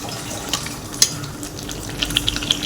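Mutton for a curry fries and is stirred in a wok, giving a continuous sizzle with several sharp metallic clinks and scrapes from the spoon, close and without speech.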